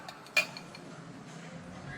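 Wilmax dishes being picked up in a home-goods store in Odesa give a single sharp clink, followed by quiet shop ambience.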